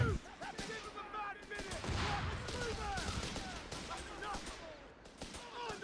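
Machine gun bursts and mortar blasts from a Company of Heroes 3 battle, a dense, continuous clatter of gunfire and booms running under a player's talk throughout.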